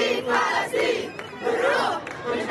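A protest crowd in Tunis chants slogans in unison outside the French embassy, rhythmic rising shouts repeating in waves, loud and close with a dense roar of many voices.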